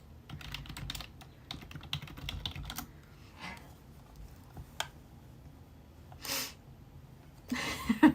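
Fingers type on a computer keyboard in quick, close clusters of clacking keystrokes with short pauses between them. A sharp breathy burst cuts in near the end.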